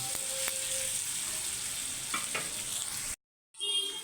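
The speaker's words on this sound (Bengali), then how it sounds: "নুন দিয়ে একটু নাড়াচাড়া করে নেব যতক্ষণ না পেঁয়াজগুলো একটু নরম হচ্ছে সেটাকে আমরা একটু ভাজবো" Onions sizzle steadily in a hot pan with salt while a utensil scrapes and stirs them, then the sound cuts out briefly before the frying resumes.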